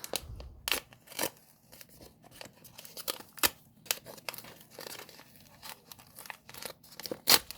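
Plastic toy packaging for Toca Life World being cut open and torn, with close, crisp snips, crinkles and rustles in irregular bursts and no talking.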